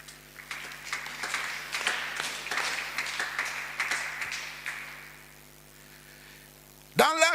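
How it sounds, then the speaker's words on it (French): Scattered clapping from a church congregation rises and fades over several seconds, then thins out to a quiet room before a sudden loud burst at the end. "On acclame."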